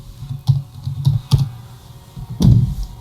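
A few scattered clicks on a computer keyboard while passport details are entered into a visa application form, close and crisp with short pauses and no speech.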